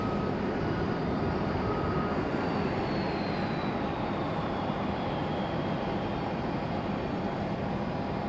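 Jet airliners at Raleigh-Durham International Airport rumble and whine steadily while taxiing, a broad continuous roar joined by a slowly falling engine tone.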